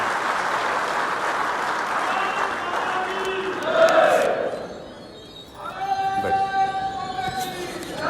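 A hall audience at a BJP Uttar Pradesh youth-wing political speech breaks into a loud wash of clapping that swells, dips briefly, then rises again, with a voice cutting in over the crowd.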